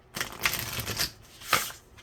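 Quick crisp riffles of large tarot cards being shuffled, two short bursts of papery flutter close by, with soft handling noises between them.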